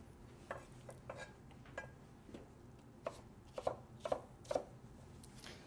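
A knife chops food into cubes on a cutting board, with about a dozen quiet, irregular taps that quicken toward the end, close and soft in a quiet kitchen.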